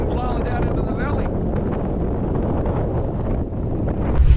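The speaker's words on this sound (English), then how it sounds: "it's really, really windy up here" Strong wind on a high New Zealand mountain road buffets the microphone in a steady, heavy low roar that continues throughout, swelling slightly near the end.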